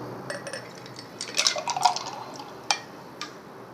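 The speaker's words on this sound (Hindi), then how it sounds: "अब इसको हम गिलास में निकाल लेंगे।" Watermelon juice is poured into a large mug, a liquid splashing and gurgling in bursts with a few sharp drips and clinks toward the end, close and fairly quiet, with no voices.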